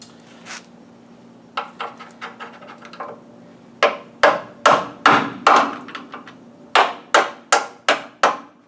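A hammer drives a punch against a suspension bolt on a classic Pontiac Firebird front end, giving sharp metallic strikes, first scattered light taps and then a steady series of heavy, ringing blows, close and loud.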